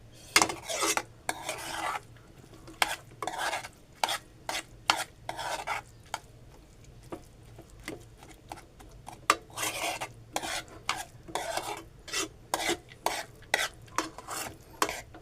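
Moong dal is stirred and roasted in a pan over a low flame, with repeated scraping and rasping strokes of a spoon against the metal in an irregular rhythm, close and fairly soft.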